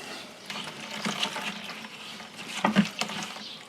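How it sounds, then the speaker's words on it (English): Wort from an all-grain pineapple pale ale mash drains in the first runnings, a soft watery trickle and patter with a few brief splashes, close and fairly quiet. "I'm now just going to do the first runnings, which is all about draining the wort."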